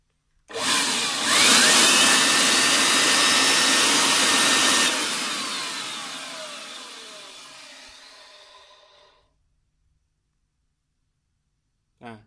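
A Garrett AR51 turbocharger fitted with a size-30 racing compressor housing, spun by an air blower, gives a loud steady whoosh with a rising whine that holds for about four seconds, then slowly spins down to silence.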